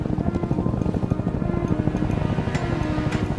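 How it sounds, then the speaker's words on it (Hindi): A helicopter flying overhead in a film scene gives a loud, steady, low rotor thump with rapid rhythmic chopping that fills the whole stretch. "कुछ सुना? हाँ, ये हेलीकॉप्टर है।"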